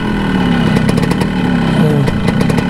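A Yamaha RX100 motorcycle engine idles nearby with a steady rumble while a person talks briefly over it.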